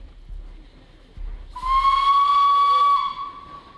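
An old Sharp Stewart 2-2-0T tank steam locomotive, built in Manchester over 120 years ago, sounds a single sustained, shrill steam whistle with a hissing edge, rising out of quiet chuffing and lasting about a second and a half.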